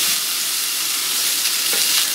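Chopped onion frying in a little vegetable oil, a loud, dense, continuous sizzle heard up close, steady throughout with no talking.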